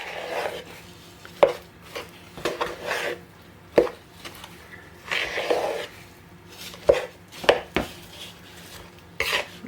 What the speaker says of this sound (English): I'm just using the knife to sort of cut through the mixture